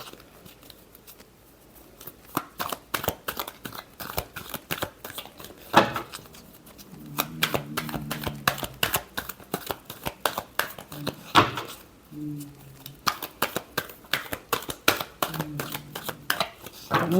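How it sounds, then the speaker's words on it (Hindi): Tarot cards riffle and slap in quick repeated bursts during a reading, with a voice speaking intermittently between the crisp, close shuffles. "Last shuffle."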